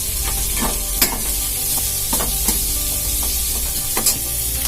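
Green chillies and a handful of curry leaves sizzle in hot oil for a sambar, a steady crackling fry broken by a few sharp stirring scrapes, close and fairly loud with no talking.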